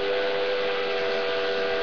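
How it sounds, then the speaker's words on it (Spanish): Toby the tram engine sounds his three-chime steam whistle as loudly as he can, a sustained, piercing chord of several steady tones held evenly for nearly two seconds. "Tocó su silbato de vapor de tres silbidos lo más fuerte y estrepitoso que pudo."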